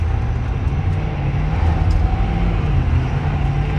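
A 2024 Ford Super Duty pickup with the standard-output 6.7L Power Stroke diesel accelerating, heard as a loud, steady, low drone and road rumble from inside the cab, with no talking.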